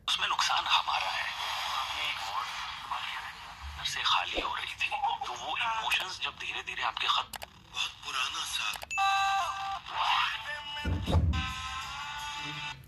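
Tinny FM radio music and a voice playing through a Nokia 105 phone's small loudspeaker without earphones, with tuning noise, shifting stations and a brief thump partway through.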